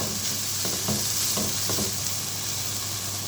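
Chopped onions frying in oil in a pan, a constant bright sizzle with a few soft stirring scrapes near the start, close and alone with no talk.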